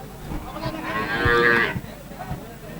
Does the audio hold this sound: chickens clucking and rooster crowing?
no